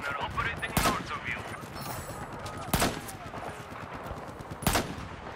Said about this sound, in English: There appears to be an enemy machine gunner operating north of